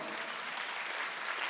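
A church congregation claps during a Korean Sunday worship service, making a brief, soft, even patter of many hands heard from a distance.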